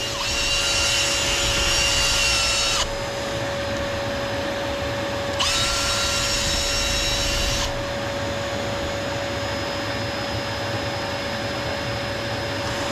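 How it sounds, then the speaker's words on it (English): A power drill grinds steadily into the brick of a 270-year-old flue in two loud bursts, with a constant high whine and motor hum running underneath throughout. "I'm just doing 2 passes, or an extra pass with the drill in the opposite direction"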